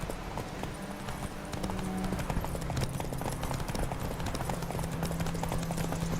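Roach the horse galloping in The Witcher 3, rapid hoofbeats pounding steadily over a dense bed of music and ambience, continuous and fairly loud throughout.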